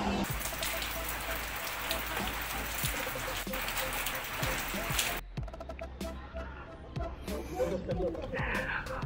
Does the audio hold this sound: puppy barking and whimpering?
no